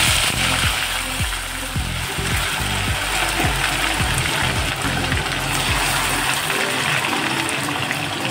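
Onion paste sputters and bubbles in hot oil in a pan, a loud close churning sizzle with repeated low popping bursts, no talk.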